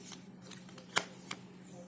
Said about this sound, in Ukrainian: Ці я перемішую